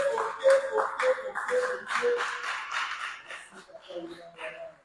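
A church congregation claps and acclaims together, with a run of steady handclaps mixed with voices that fades toward the end, fairly faint overall.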